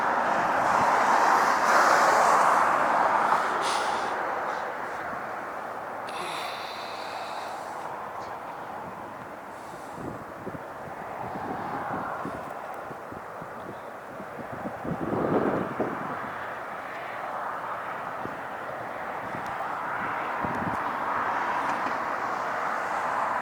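A heavy jet airliner takes off at LAX, a broad distant roar that rises and falls over more than twenty seconds, mixed with wind buffeting the microphone.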